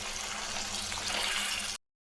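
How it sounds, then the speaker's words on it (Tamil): Water pours steadily into a cooking pan in a continuous rushing splash for under two seconds, then stops abruptly. "இப்போ நம்ம ஒரு சின்ன டம்ளர் தண்ணி இதில் சேர்த்துக்கலாம்"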